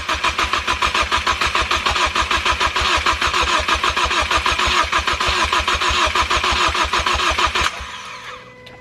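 A Ford Focus ST with a swapped engine cranks in a rapid, even starter chug for several seconds, loud and close, then catches and drops to a quieter idle at the end.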